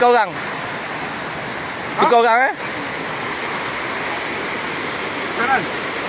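Fast-flowing river water rushes steadily throughout as a dense, continuous broadband wash during freshwater fishing, with brief bursts of people's voices rising above it near the start and middle.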